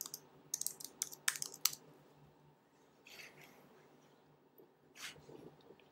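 Quiet bursts of computer keyboard typing as a search is entered, a quick run of clicking keystrokes followed by a pause and a few more isolated taps, close by and faint, with no voices.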